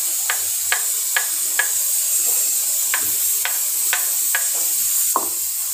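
A ground paste of green chili, black pepper, garlic and ginger dropped into hot oil for fish chili, giving a steady hiss punctuated by a string of short, sharp scraping stir strokes.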